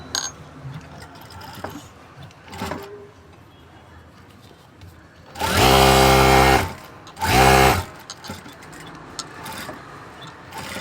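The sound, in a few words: sewing machine topstitching a kurti stand collar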